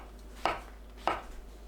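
A knife slicing king oyster mushrooms about half a centimetre thick on a board, two separate soft chopping taps, close and quiet over faint background hum.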